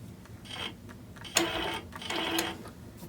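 A longarm quilting machine runs in two short stitching bursts, close and fairly loud, with a soft mechanical whir and quieter pauses between them while thread is tied off on a custom quilt.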